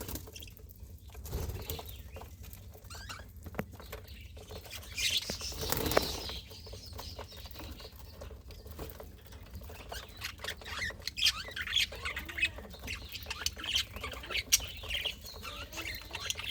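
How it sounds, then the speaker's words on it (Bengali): Pet birds kept in a colony of about ten to twelve adult pairs, with bursts of wing flapping and scattered squawks and rustling throughout, no talk. "প্রায় দশ বারো জোড়া পাখি আছে এই কলোনিতে"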